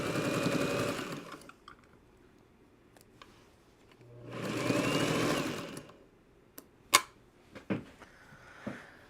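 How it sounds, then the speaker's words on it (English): A sewing machine stitching quilt fabric runs in two steady whirring bursts separated by a pause, followed by a few close clicks and taps. "I'm going to come in here and stitch closer to that blue line"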